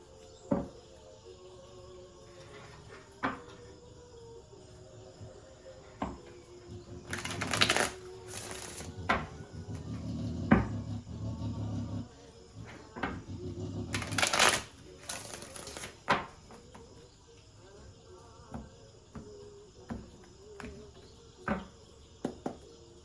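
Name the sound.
shuffling tarot cards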